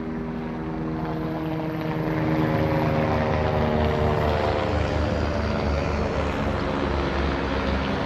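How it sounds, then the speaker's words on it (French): A helicopter passing overhead near the railway station at Ax-les-Thermes, a loud continuous rotor and engine drone that holds steady and swells slightly over several seconds, with no voices. "Je crois que c'est l'hélico."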